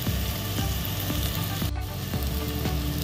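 Ginger browns in a hot pan for shrimp sinigang, crackling in a steady, close sizzle with small pops and a brief scrape of stirring partway through.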